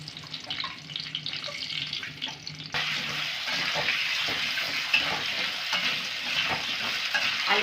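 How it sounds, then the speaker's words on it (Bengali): Potatoes frying in oil left over from frying pointed gourds start with a quiet clatter, then break into a steady, close sizzle with occasional stirring sounds. "ওই একই তেলে কিন্তু আলুগুলোকে ভেজে নেব।"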